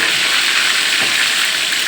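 Pieces of sea bass frying in a pan until golden, a loud, steady, close sizzle of hot oil with no break and no voices.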